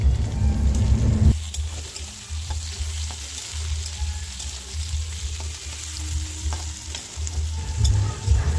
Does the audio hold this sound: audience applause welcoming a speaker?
no